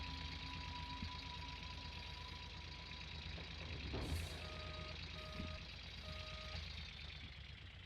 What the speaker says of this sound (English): I might just go back with the dump truck.